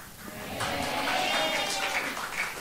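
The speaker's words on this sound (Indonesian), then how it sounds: "Tepuk tangannya kayak ragu-ragu aja." Sparse, hesitant clapping from a church congregation during a sermon, a thin scattering of hands that never builds into full applause and sits at a moderate distance in the hall.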